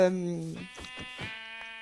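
Several sheep bleat in a video game, rising and wavering over a steady electronic game tone, with a few overlapping calls close by.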